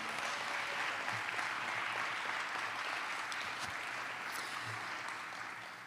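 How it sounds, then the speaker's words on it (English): Audience at an MLK celebration and awards event applauding a guest speaker, a moderately quiet, continuous spread of clapping that gradually tapers off at the end. "I just want to give another round of applause for our distinguished speaker, Dr. Williams."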